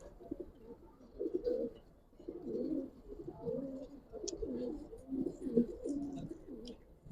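A group of Giribaz jumper pigeons murmurs in steady overlapping coos, soft and close, with a few faint clicks and rustles scattered through.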